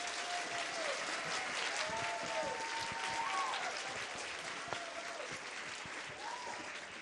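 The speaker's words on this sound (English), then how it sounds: "Let's give them another round of applause." An audience claps steadily for second grade performers at a school show, a fairly distant, continuous patter of many hands with a few faint tonal whistles or squeaks running over it.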